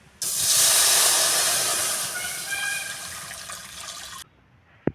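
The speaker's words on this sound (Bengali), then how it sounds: "কড়াইটা আমার গরম হয়ে গিয়েছে। এখন দিয়ে দেব জল।" Water is poured into a hot wok, bursting into a loud, steady hiss of steam that fades slightly over about four seconds and stops abruptly, followed by a brief knock.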